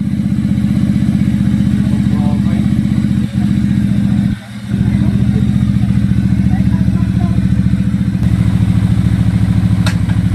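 A Benda Chinchilla 500 motorcycle engine running loud and close in a steady, throbbing idle with a couple of brief dips, while people talk nearby.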